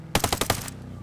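A rapid burst of automatic gunfire in a tactical military shooter played in immersive mode with no HUD, about five loud close shots in quick succession, then a ringing tail fading into low ambient rumble.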